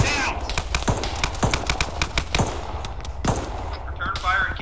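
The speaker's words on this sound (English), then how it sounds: "Watch the machine guns." Machine guns rattle in a tactical military game battle, with dense overlapping bursts and sharp cracks, loud and close, some shots more distant, under a busy backdrop of voices.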